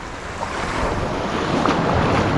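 Sea waves wash onto a rocky Batangas shore in gloomy weather, a steady broad rush of surf with gusts of wind buffeting the microphone, loud and continuous with no voices.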